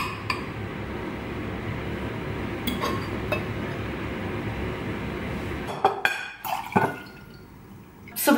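Dishes clink as food is served onto a plate at home, a few sharp ceramic and cutlery taps standing out near the end over a continuous background hiss.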